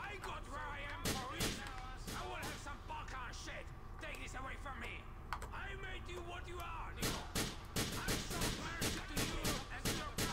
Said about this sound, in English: I'm shooting at him directly.